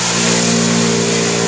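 An off-road truck's engine revs hard in mud, a loud, close, sustained roar holding a steady high pitch for a moment with no voices over it.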